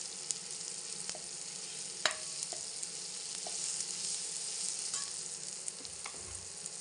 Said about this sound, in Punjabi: ਹਲਦੀ ਨੂੰ ਮਿਕਸ ਕਰ ਦਿੰਦੇ ਹਾਂ ਚੰਗੀ ਤਰ੍ਹਾਂ